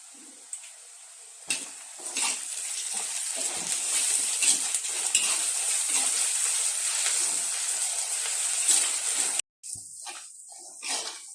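Onions fry with ginger-garlic paste in a pan for a pepper chicken dish, a steady loud sizzle with scrapes of stirring, broken by a brief cut near the end before the sizzle resumes.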